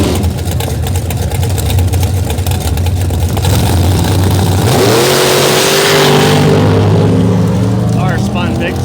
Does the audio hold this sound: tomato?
no